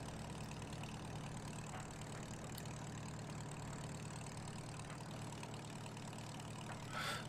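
A tractor engine idles steadily throughout, a continuous low rumble with no talk, carrying a faint brief rattle near the end.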